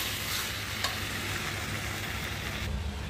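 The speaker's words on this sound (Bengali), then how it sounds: "মাংসটা এখন কষাচ্ছি।" Meat stir-fried in a pan, with a continuous close sizzle and scraping stirring that carry on steadily throughout, with no talking.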